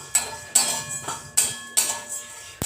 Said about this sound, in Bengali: মশলাগুলো চিটচিট করে ফুটছে না শুনতে পাচ্ছেন নিশ্চয়